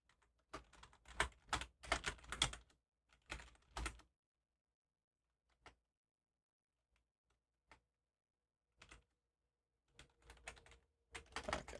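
Someone types on a computer keyboard up close in quick bursts of clustered keystrokes, broken by pauses and a few isolated taps, with no talking.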